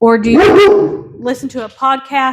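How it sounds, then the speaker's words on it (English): A dog barks at someone passing the house, a burst of several loud nearby barks in the opening second, then quieter, more broken barking continuing while someone talks. "Sorry, that was my dog. Someone walked by our house."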